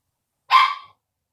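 A single sharp dog bark rings out once, close and clear, cutting off quickly into silence.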